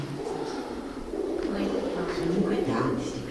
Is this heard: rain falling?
no